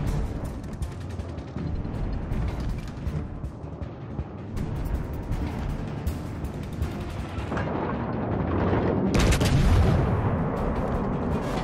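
Heavy naval gunfire in World of Warships: Legends, with dense, continuous booming and mechanical rumble throughout and a louder burst of blasts near the end.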